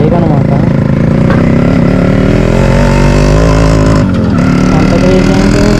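A Yamaha RX 100 motorcycle being ridden, its engine droning loud and close without pause, the pitch rising and falling as the throttle opens and eases.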